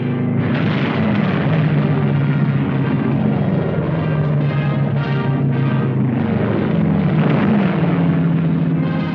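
Airplanes drone overhead in vintage wartime film footage of China, a loud continuous roar of engines with swelling and fading tones, thick and unbroken throughout, with no talking.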